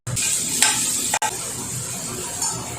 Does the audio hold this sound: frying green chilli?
yes